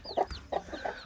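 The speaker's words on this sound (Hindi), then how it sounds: "और एक मुर्गी इधर है" A hen on a small farm gives a few quick, close clucks in about a second, with soft bird chirps behind.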